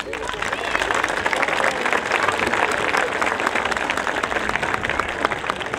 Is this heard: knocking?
no